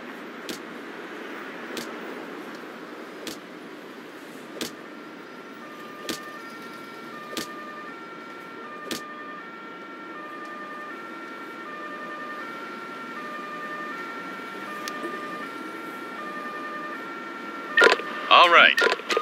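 An ambulance siren in the video game Emergency 5 wails in a steady two-tone alternating pattern at moderate distance, under periodic clicks and speech, ending with a burst of louder noise.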